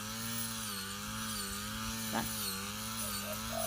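A brush cutter's engine drones steadily at high pitch, with a brief rasping sound of cutting wet grass after rain partway through.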